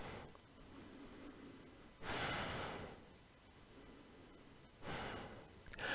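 Deep, loud breaths taken by someone holding a yoga balance pose in a vinyasa flow, two strong rushing inhales or exhales a few seconds apart over quieter steady breathing, close to the listener.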